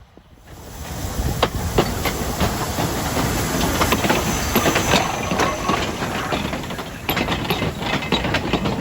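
A steam train on the East Broad Top Railroad during its winter spectacular, a loud continuous hiss and rumble rising in at the start, with rhythmic clatter of wheels and rail joints throughout.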